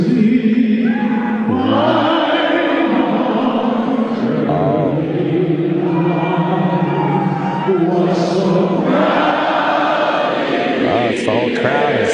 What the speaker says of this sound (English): It's the whole crowd is singing along.